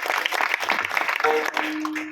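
Audience clapping for a mridang player at a kirtan held at a Datta temple, a short burst of applause from the crowd with a faint tone ringing near the end.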